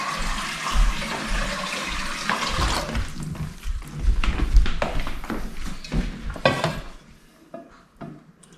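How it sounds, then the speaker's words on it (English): Cold water is poured into a pan for a cheesecake water bath, splashing and gushing steadily, then trailing off into quiet, with a few knocks and clinks along the way. "Then you pour in some cold water."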